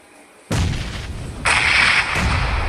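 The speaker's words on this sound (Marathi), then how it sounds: "मी पण टाकणार ग्रेनेड, माझ्याकडे पण ग्रेनेड आहेत. घे पहिला ग्रेनेड" Grenades thrown and exploding in a battle-royale shooter game: a sudden loud blast bursts in after a quiet lead-in, followed by a second, brighter explosion and another burst, with rumbling debris between them.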